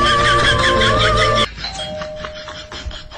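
A loud two-tone doorbell chime rings out, then cuts off abruptly, leaving a quieter room with a faint lingering tone.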